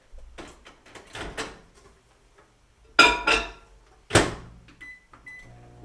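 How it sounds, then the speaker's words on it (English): A microwave oven heats chocolate, with a few clunks of the door and handling, then a sharp clack and soft electronic beeps near the end, close and fairly loud against a quiet kitchen. "Heat in the microwave for 30-second increments."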